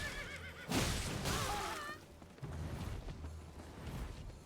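A horse whinnies loudly in the Elden Ring video game, a shrill, wavering neigh lasting about a second, amid creaking, clattering game effects.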